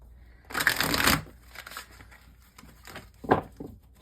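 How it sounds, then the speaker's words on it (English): Tarot cards are shuffled up close in a dense riffling burst, followed by a few softer shuffles and card taps, with no talking. "shuffle, because I forgot to shuffle these."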